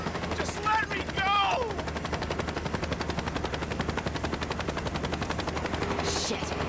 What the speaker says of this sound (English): Clark just got in that helicopter.